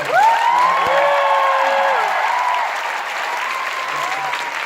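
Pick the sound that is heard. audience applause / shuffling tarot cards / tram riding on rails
audience applause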